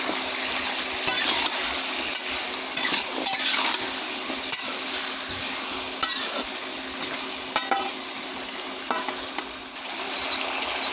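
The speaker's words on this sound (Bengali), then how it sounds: "এখন আমি ভালো করে নেড়ে দেবো।" A spoon works through a hilsa fish curry with potato and plantain, seasoned with salt and turmeric, in a pan. A continuous sizzle runs underneath intermittent light scrapes and clicks of stirring.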